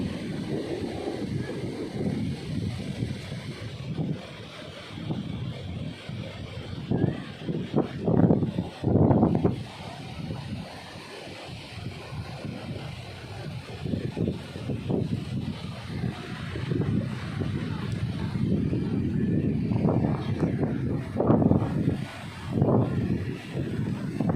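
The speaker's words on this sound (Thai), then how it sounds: "ลมแรง" Strong wind blows across a wide expanse of water, roaring and buffeting the microphone in uneven gusts that swell and fade over the whole stretch, with a low rumbling undertone.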